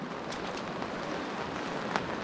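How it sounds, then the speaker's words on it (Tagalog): Steady rain hisses down in a mountain setting, a dense even wash of drops with a few sharper splashes standing out, no voices. "Medyo maulan pa dito."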